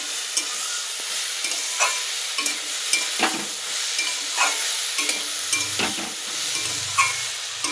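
Spices, cumin and Kashmiri chilli powder are stirred in a frying pan. The oil sizzles constantly underneath, and repeated scraping strokes of a spatula sound close and clear, with no talk.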